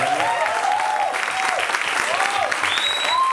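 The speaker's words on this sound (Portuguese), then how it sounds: "Por gentileza, receba os aplausos da nossa plateia." A debate audience applauds a newly arrived guest with steady, dense clapping that fills the room, while a voice speaks over the crowd.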